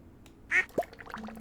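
A duck in the Stardew Valley video game quacks twice in quick succession, two short clear calls over quiet background game sounds.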